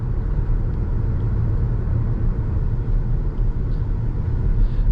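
A 2014 Audi Q7 Premium Plus 3.0T in sport mode gives a steady, loud low engine and road rumble from inside the cabin, constant throughout with no voices.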